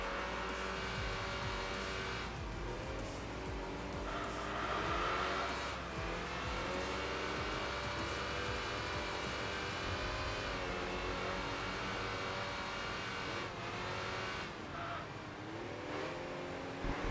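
Racing cars in the Enthusia Professional Racing video game, including an Alfa Romeo, rev and accelerate with shifting engine pitch and occasional tire squeal, a continuous dense mix of engine noise.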